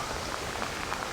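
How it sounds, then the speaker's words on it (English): Heavy rain pours down steadily during a wild camping trip in wind and wet weather, a dense, close hiss of drops pattering on surfaces with no voices. "Gotta get out of this rain."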